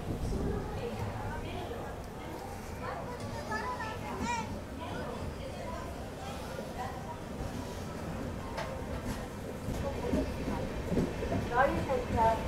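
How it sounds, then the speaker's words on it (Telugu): Pinakini SF Express 12712 pulling out of Sullurupeta station on its Chennai Central to Vijayawada run: a low rumbling rolling train din inside the coach, with children and other voices chattering over it throughout. "డిపార్ట్ కూడా అయిపోయింది సుల్లూరుపేట నుంచి మన ట్రైన్."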